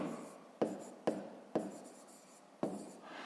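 A pen scratches across paper in close, quiet handwriting during a math exercise, four distinct strokes each starting with a sharp tap and fading out.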